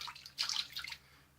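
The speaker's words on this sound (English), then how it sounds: "Let me put more water." Water splashes and trickles into shaving soap during lathering, two or three short, close, soft bursts of pouring, then quiet.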